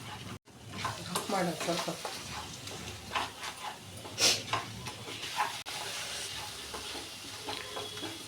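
Eggs fry in a pan with a bright sizzle and repeated scraping stirs of a utensil, close and fairly loud, while a voice briefly speaks once.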